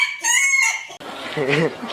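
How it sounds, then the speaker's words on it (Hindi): A rooster crows once, loud and close, its call trailing off before a few clucking, voice-like sounds follow. "ये राहुल सील मुर्गे को खुला देख के ना बड़ी अजाने दे रहा है।"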